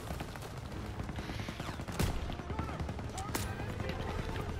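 An MG-42 machine gun nest firing in the WWII video game Call of Duty: WWII, with steady, rattling automatic fire and a few sharper, louder cracks over a busy battlefield din, while voices talk.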